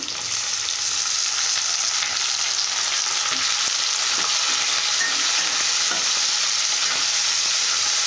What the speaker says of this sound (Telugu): కొద్దిగా కరివేపాకు టమోటా ముక్కలు చేసి వేసుకున్నాము